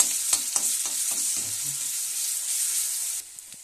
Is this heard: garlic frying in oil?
yes